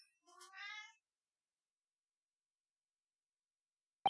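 A cat meows once, short and clear, in otherwise near silence, followed near the end by a brief sharp click.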